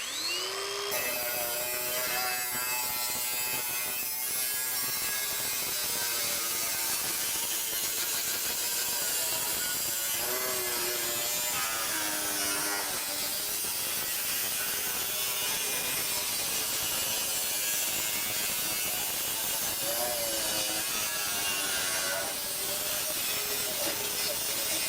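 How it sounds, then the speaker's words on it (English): A 6-inch angle grinder with a 6-inch wheel cuts through sheet metal roofing, giving a loud, continuous high-pitched whine and grinding screech that runs steadily for the whole stretch, with pitch wavering as the wheel bites into the metal. "Now this is a 6-inch grinder, 6-inch grinder wheel."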